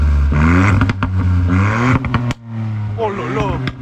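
A Ford Fiesta ST Mk8 in sport mode revs hard nearby, its engine rising and dropping with sharp crackles and pops between the rev sweeps.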